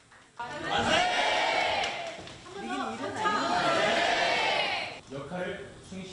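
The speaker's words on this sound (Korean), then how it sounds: "논쟁 끝에 안중근 의사에게 무죄가 선고되자 모두들 태극기를 흔들며 환호합니다" Students cheer while waving Korean flags after a not-guilty verdict in a mock trial held in a historic courtroom, giving a loud, sustained crowd roar of excited shouting and chatter that dips briefly and then swells again.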